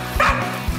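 A dog gives a few quick, sharp, high-pitched barks and yips up close in a brief, excited burst.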